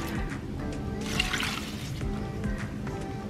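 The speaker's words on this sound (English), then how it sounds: "now we are going to pour our salt water in here" Salt water poured over cabbage in a bowl while making vegan kimchi, a soft close trickling and splashing pour lasting a few seconds with faint background rustle.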